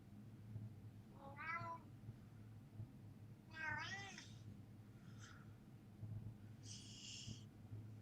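A house cat meows several times with drawn-out, rising and falling calls spaced a few seconds apart, fairly close, over a low steady room hum with no talking.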